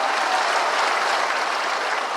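Audience at a political rally in Bihar breaking into sustained applause, dense steady clapping filling the whole moment with no voices over it.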